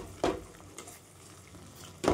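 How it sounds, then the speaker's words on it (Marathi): Spices roasting in hot oil in a pan for a spicy chana dal and bottle gourd curry, giving a soft steady sizzle with a few louder stirring scrapes at the start and end. "छान भाजून घ्यायचं आणि तेल पण सुटत आहे"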